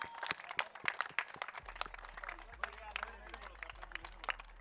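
Applause at a cricket prize distribution ceremony as the runner-up team receives its trophy: scattered crowd clapping, moderately distant, under a continuous low hum, with people talking nearby.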